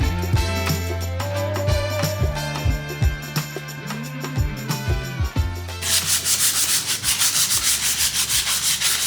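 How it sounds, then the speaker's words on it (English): Continuous scraping and sanding burrs off a metal part, rough and rhythmic, first with a harsher grinding tone, then shifting to quicker, brighter back-and-forth strokes. "Advanced sanding techniques."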